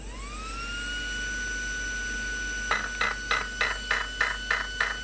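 An RC car speed controller on a Tekno EB48 2.2 buggy, set up during endpoint calibration, gives a steady electronic tone and then a run of eight sharp, evenly spaced beeps, close and clear with no talking.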